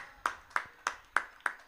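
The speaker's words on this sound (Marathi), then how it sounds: "टाळ्यांचा गजर होणार आहे समीरन सिंग साठी" Five sharp, evenly spaced hand claps ring out faintly, celebrating a batsman's half-century at a cricket match.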